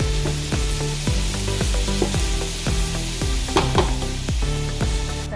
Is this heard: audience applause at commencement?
no